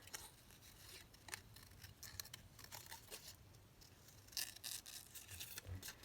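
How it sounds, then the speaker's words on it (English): Scissors snip out a paper butterfly for an altered-book junk journal, with quiet, close, repeated cuts and soft paper rustling throughout. "so just going to cut out this butterfly"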